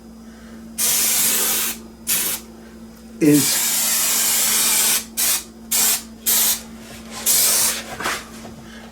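Spray adhesive for re-covering a Marshall 1960A amp cabinet in tolex hisses loudly from a can in a series of bursts: one long spray, then several short puffs. A person speaks briefly between them.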